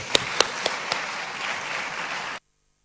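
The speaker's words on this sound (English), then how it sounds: "So you deserve a big round of applause" An audience at a conference on empowering SMEs, women and youth breaks into applause, opening with a few sharp claps that blend into a steady wash of clapping before it cuts off abruptly.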